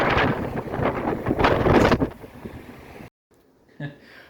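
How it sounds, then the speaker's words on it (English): Wind buffets the microphone with loud, rumbling gusts for about two seconds, then eases into a quieter hiss before a short pause. "It's a little bit windy, I apologize,"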